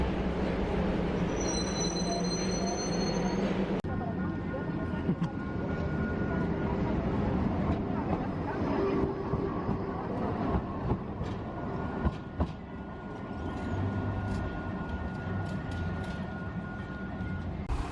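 A Siemens Duewag U2 tram on the Mendoza Metrotranvía rumbles along with rattling wheels and a brief high tonal squeal at the start, steady rolling noise continuing throughout, with a voice speaking at moments.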